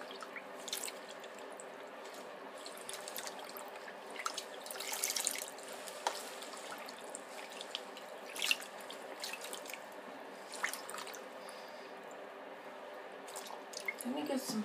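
Water trickles and drips from a tap in irregular splashes, fairly quiet, over a low steady background hum.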